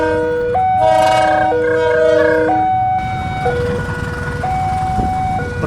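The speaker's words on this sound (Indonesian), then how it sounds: "Langsir membawa full rangkaian bandul dan KRL." A shunting locomotive hauls a full rake of KRL electric train cars at dusk, sounding a loud multi-tone horn in stepped, sustained chords over a rumbling background, with no voices.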